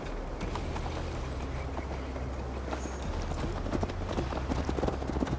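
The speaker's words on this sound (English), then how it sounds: "Mount up, Eivor. It's a long ride to Tamworth." Horse hooves clip-clop steadily as a mount is ridden in the video game Assassin's Creed Valhalla, a continuous rhythmic trot at moderate loudness over low ambient rumble.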